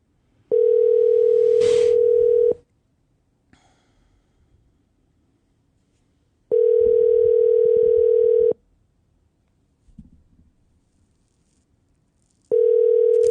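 Telephone ringback tone on an outgoing call that nobody picks up: steady, clear electronic purrs lasting about two seconds each, separated by roughly four seconds of near silence, with three rings heard.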